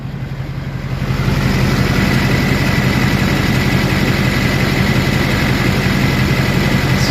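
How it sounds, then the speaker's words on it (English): A classic Duramax diesel pickup truck idles with a steady, loud, even clatter, rising at the start and then holding a constant rumble with no talk. "Just let you guys hear some of that engine clatter."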